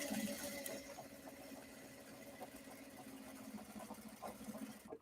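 A sewing machine stitches straight across a large bag in one long continuous line, its fast needle rhythm riding over a low, even motor hum throughout.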